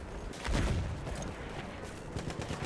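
Dense gunfire in Battlefield 1 on the Suez map: rapid, overlapping shots and bursts that crackle continuously at close range, heavy and loud throughout, with no voices.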